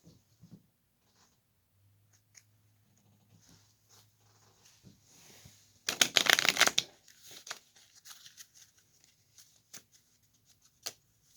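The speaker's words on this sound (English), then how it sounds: "How's your shuffling? You want to shuffle?" A deck of tarot cards is shuffled close by in a quiet room, a brief dense burst of riffling and flapping in the middle, with a few soft taps and rustles around it.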